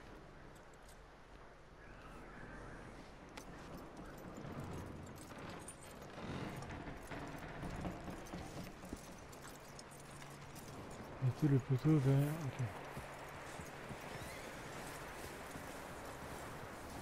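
Horse hooves in the video game Red Dead Redemption 2 clop along at a walking pace, soft and intermittent, with a louder burst of clattering steps partway through while people talk over them.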